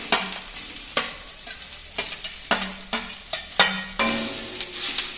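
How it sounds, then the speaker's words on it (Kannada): Tomato frying with onions in a pan over low flame, a steady sizzle broken by regular stirring scrapes about once a second, close and fairly loud with no talking. "ಟೊಮೆಟೊ ಒಂದು ಸ್ವಲ್ಪ ಫುಲ್ ಮೆತ್ತಗಾಗುವಂಗೆ ಫ್ರೈ ಮಾಡ್ಕೋಬೇಕು"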